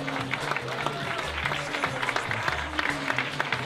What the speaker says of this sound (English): give a rousing round of applause as I introduce the couples in